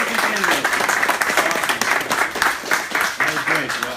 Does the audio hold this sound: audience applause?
yes